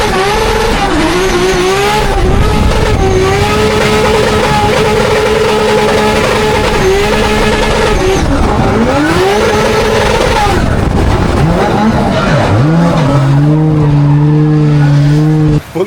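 A Formula Drift car runs the banked wall at the Orlando round, its engine screaming continuously at full throttle while the tires squeal in long howling slides, loud and close throughout.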